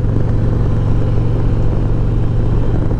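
Engine of a 2023 Harley-Davidson 120th anniversary CVO Road Glide while riding: a loud, steady low rumble with a throbbing mid-range tone and constant road noise, no talking.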